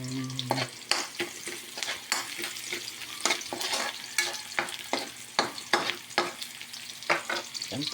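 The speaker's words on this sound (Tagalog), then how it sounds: "Magigisa na tayo ng bawang, sibuyas." Garlic and onion sizzle in hot oil in a home kitchen while a utensil scrapes and stirs the pan in repeated sharp strokes, with no one speaking.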